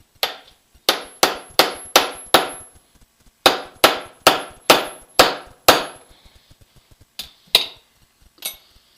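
Hammer blows drive out U-joint caps on a Suzuki in a workshop, ringing metal strikes coming in quick bursts of five or six, then a few scattered final hits, close and loud with no speech.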